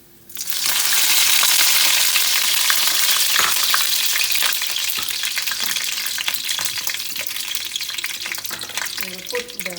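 Cinnamon stick, star anise and curry leaves drop into hot oil and burst into a loud, steady sizzle that stays strong throughout, with occasional crackles and a few stirring scrapes near the end.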